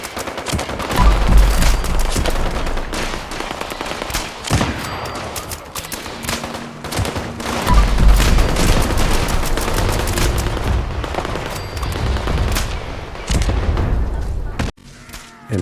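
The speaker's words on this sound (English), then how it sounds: "Here you can see the build shooting super mutants on Fastnacht." Bow shots and combat at super mutants during the Fastnacht event in Fallout 76, a dense, loud, continuous barrage of sharp impacts and booms with low thumps, busy throughout with little pause.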